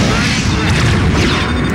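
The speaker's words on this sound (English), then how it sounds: "Oh, kaboom! There goes a freighter." A freighter explodes in the space combat video game Starfleet Command 2, a loud, deep, rumbling boom that fills the short moment with a heavy low-end roar.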